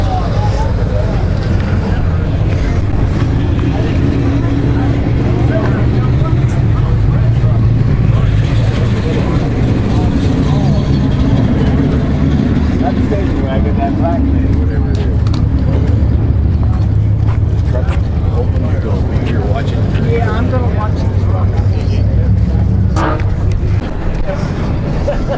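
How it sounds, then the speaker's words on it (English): A hot rod powered by a Ford engine with a centrifugal supercharger runs at a car event on the Hot Rod Power Tour, a loud, steady, close engine drone that carries on throughout with people talking over it. "Centrifugal supercharger, Ford engine. That's not your average hot rod."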